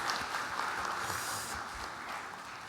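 Steady applause from a church congregation at a Korean revival service, a dense, even wash of clapping hands that holds at moderate loudness without pause and has no voices above it.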